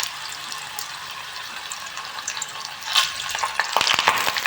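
Onion halves frying in oil in a pan for a chicken gizzard curry, a steady bright sizzle that holds evenly, then grows louder and busier near the end with sharp crackles and spatters, close up and without voices.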